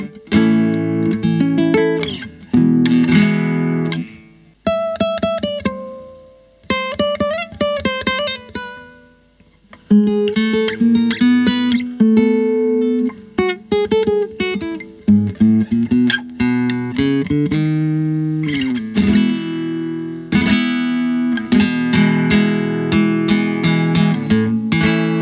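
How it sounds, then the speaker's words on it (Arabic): Acoustic guitar plugged into an electric guitar amplifier, strummed chords and picked phrases with a bright, slightly processed twang, loud and close, pausing briefly now and then, with no talking. "الجيتار الأكوستيك والجيتار الكلاسيك ينفع أشغلهم على أمبليفاير بتاع جيتار إلكتريك"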